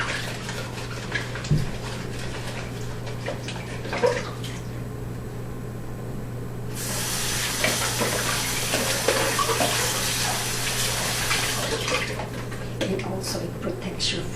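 Water runs and trickles through an orchid pot onto a plastic sheet below, a soft steady flow that swells into a louder continuous splash partway through, with light handling noises and a quiet voice in the background.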